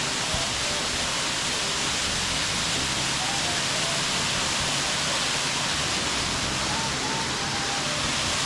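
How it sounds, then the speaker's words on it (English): Steady, dense rushing of a waterfall in a western Pennsylvania state park after rain fills the scene, a constant broadband roar with no pauses. "There's the waterfall."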